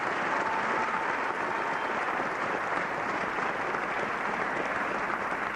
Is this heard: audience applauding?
yes